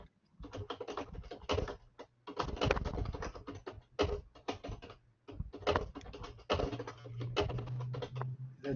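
Someone types on a computer keyboard in bursts of rapid clicking keystrokes separated by short pauses, close and fairly clear against a quiet room with a low background hum.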